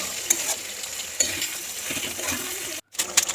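Chicken being stirred and sautéed in a pan with chilli powder, salt and ginger-garlic paste, giving a steady close sizzle with scraping stir strokes and a brief silent gap near the end.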